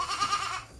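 A goat bleats once in a short, wavering cry at close range during natural goat breeding on a farm, with no talk over it.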